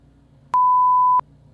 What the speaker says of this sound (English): please read your social security number after the beep.